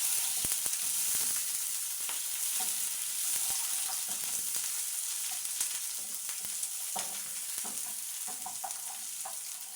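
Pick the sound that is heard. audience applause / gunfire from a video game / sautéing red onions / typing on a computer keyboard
sautéing red onions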